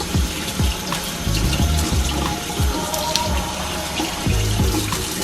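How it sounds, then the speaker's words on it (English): Tap water runs steadily into a sink while bones for Indonesian meatball soup broth are rinsed, with small clinks and splashes over a constant close-up gush and no talking. "I take it off and rinse it in the running water."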